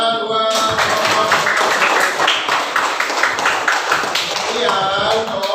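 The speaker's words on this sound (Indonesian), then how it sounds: "Untuk tepuk tangan dua kelompok." Two groups of children clapping in a classroom, a loud burst of rapid, rhythmic hand claps lasting several seconds, starting sharply after a brief moment of talk.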